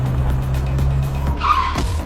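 An animated car skids on a snowy road in a blizzard, with a loud, sustained engine drone giving way to a sharp tire squeal near the end.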